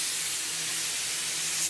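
A paint spray gun fires a short test spray, producing a loud, continuous hiss that starts at once and cuts off sharply at the end, with no voices over it.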